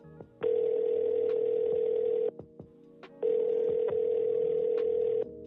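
Two long, steady phone ringback tones of about two seconds each, separated by a short gap with faint clicks, sounding thin and moderately quiet as a call connects to a media member.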